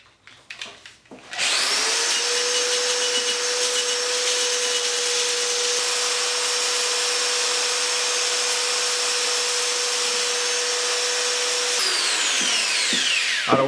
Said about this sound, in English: so I'm just using the power sander to get rid of the ridges